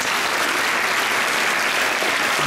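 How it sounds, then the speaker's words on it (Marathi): Students at a Marathi Language Day event applaud themselves in a loud, dense, continuous burst of clapping from a large group, filling the whole moment. "जोरदार टाळ्या आपणच वाजवा।"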